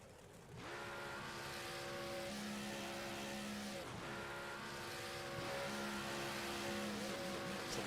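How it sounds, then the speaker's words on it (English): Race car engines rev at a race track during a Thursday Night Thunder event, in repeated rising and falling howls about every one and a half seconds, held at moderate loudness and with no voices. "The engines are revving pretty loud here"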